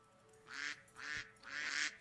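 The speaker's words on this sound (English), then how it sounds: "Quack, quack, quack, quack, quack." Three quacks from a Minecraft duck come through in separate bursts, about evenly spaced, with faint steady game background noise between them.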